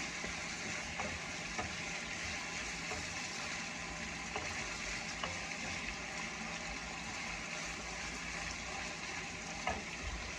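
Steady, crackling sizzle of chilies frying in hot oil in a pan for Thai cashew chicken, continuous and moderately quiet, with a few small pops and no talking.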